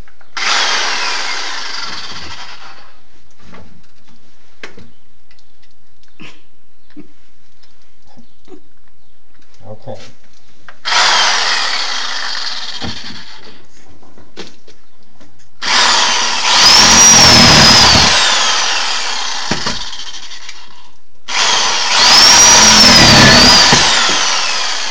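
Power saw cutting into a lath and plaster wall in short bursts: four loud buzzing cuts separated by quiet pauses, with the later cuts louder and harsher.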